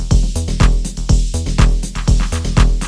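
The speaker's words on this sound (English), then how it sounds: "The percussion is simple but complex and full of energy and organic feel" Simple, energetic, organic melodic techno percussion in the Afterlife style, with crisp hits and shakers layered over a driving kick in a tight, loud, repeating groove; no voices.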